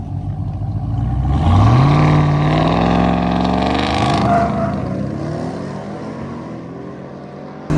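A 2023 Ford Raptor R truck in sport mode accelerates hard off the line in a drag race, its engine note climbing in a loud, sustained roar that stays strong for several seconds before easing slightly.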